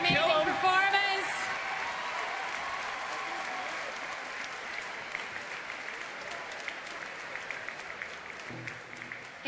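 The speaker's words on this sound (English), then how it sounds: "That definitely deserves a big round of applause for an amazing performance" A large crowd applauds at the BlizzCon 2010 costume song and dance contest, a dense, sustained wash of clapping that starts loud and gradually thins out.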